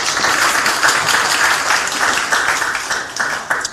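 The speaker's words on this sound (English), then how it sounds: "Please can you help me give them a round of applause?" An audience at a youth-focused Lagos event breaks into a dense, sustained round of clapping that fills the space evenly, with no talk over it.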